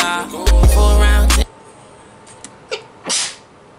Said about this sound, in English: Sorry, you know I had to sneeze.